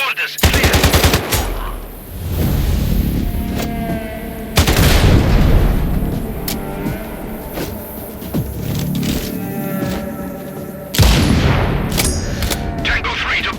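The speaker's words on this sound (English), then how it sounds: "I heard an explosion." In the video game Sniper Ghost Warrior Contracts 2, loud booming blasts strike three times amid a dense mix of rapid gunfire and rumbling combat noise, up close and heavy throughout.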